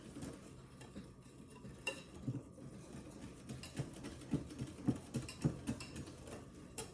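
Dessert batter for angel pudding being mixed by hand in a bowl, a utensil scraping and tapping against the sides in an uneven rhythm that grows busier toward the end, close and fairly quiet, with no one talking.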